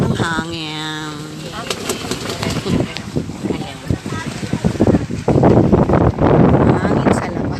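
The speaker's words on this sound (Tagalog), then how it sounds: "ang sarap ng hangin." Wind blows steadily outdoors on Cagbalete Island, rushing and buffeting the microphone in gusts, while several people talk and laugh close by over it.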